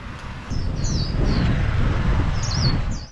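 Small birds chirp and tweet in short high bursts on a busy Hanoi street, Vietnam, set against a steady rumble of traffic and wind noise, with several calls spread across a few seconds.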